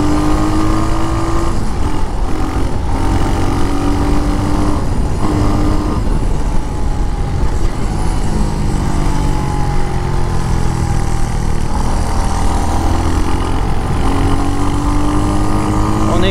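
A Royal Enfield Hunter 350 motorcycle's single-cylinder engine runs loud and close, a steady thumping drone with rising and falling revs throughout.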